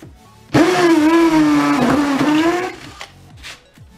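Parkside cordless hammer drill boring into concrete, a loud steady motor whine that holds for about two seconds and then stops, leaving faint rattles.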